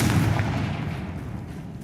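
A Confringo spell explodes in Hogwarts Legacy with a single heavy booming blast up front that rumbles and decays over about two seconds.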